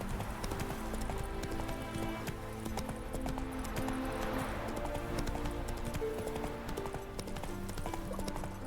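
Roach, Geralt's horse in The Witcher 3, gallops with a continuous quick clip-clop of hooves over music and game ambience, moderately loud and steady throughout.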